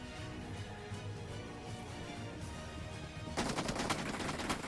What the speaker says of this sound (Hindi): ये देखो उसने प्री फायर किया।